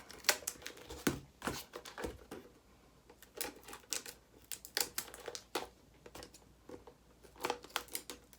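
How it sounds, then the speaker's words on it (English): Scissors cutting the corners off a sheet of corrugated plastic for a soap mold, a rapid series of crisp snips and crunchy cuts in irregular bursts, close and clear with short pauses between. "And I always cut off these extra corners just because they're sharp"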